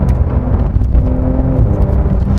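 A 2021 Porsche 911 Turbo S (992) pulls away from a start on a winding road, its engine a loud, steady, deep roar that fills the whole moment without talk.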